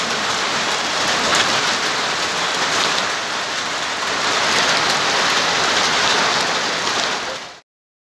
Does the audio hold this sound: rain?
yes